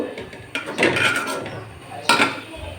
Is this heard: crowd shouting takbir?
no